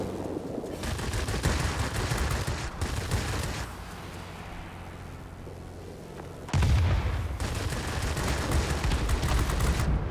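Continuous rapid aircraft machine gun fire from an A6M5 Zero in World of Warplanes rattles loud and close in long bursts, with a brief lull before a heavier burst resumes, and no talking.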